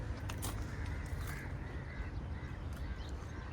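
Crows cawing in a sunny garden in Dubai, a few faint calls from some distance over a steady low hum of background noise.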